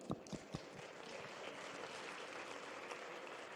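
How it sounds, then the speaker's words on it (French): An audience at a university tech festival claps, starting with a few sharp, separate claps that merge into a soft, steady patter heard from a distance. "On peut les applaudir."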